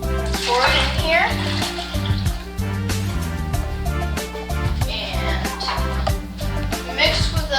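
About two cups of 110-degree water pour and splash steadily into a bowl for pretzel dough, a continuous gurgling stream with some clinking, fairly close and loud.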